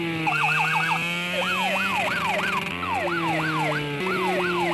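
A police car siren wails steadily nearby, its repeated rising and falling sweeps loud and continuous over a low engine drone during a motorcycle ride.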